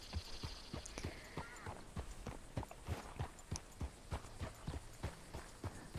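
Horse hooves from Red Dead Redemption 2, a steady, evenly paced clip-clop of a walking horse, clear and fairly near, over a faint ambient hum.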